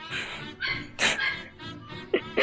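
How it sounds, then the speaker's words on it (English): Dogs yelp and bark in several sharp bursts, close and loud, with no talk over them, during a home podcast recording. "My dog's making a lot of noise."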